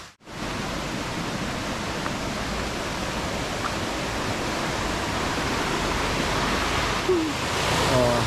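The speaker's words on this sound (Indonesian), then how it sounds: "kita melewati air terjun kecil" Small waterfall in a forest beside a remote village track, a steady broad rushing roar of falling water filling the whole stretch, close and continuous with no speech.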